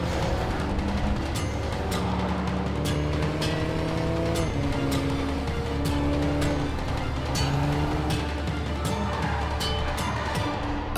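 Ferrari California T with launch control engaged and stability control off accelerates hard from a standstill, its turbocharged engine roaring loudly and rising through several gear changes on Pirelli P Zero tires, with no talking.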